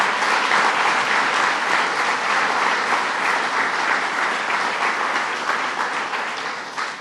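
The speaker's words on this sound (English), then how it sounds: "Let's give him a round of applause." An indoor crowd at a governor's announcement at a health technology company breaks into loud, sustained applause, a dense even roar of clapping that tapers slightly at the end.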